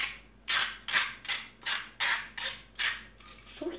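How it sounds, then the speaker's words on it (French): A pepper mill grinds with a strange creaking in seven regular, loud, close twists, each a bright rasping creak that swells and fades, in a kitchen while cooking githeri. "Mon moulin à poivre."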